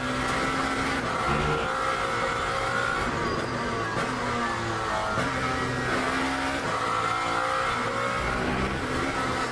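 Racing engines drone steadily through a virtual reality sim racing game, with a continuous high whine and brief tyre squeals as the tyres lock under braking; no talking.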